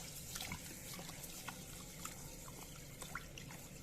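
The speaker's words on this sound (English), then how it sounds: "So now we'll be washing the rice." Rice being rinsed under running water, a soft steady trickle and splash at low level with small droplet spatters throughout, no talking.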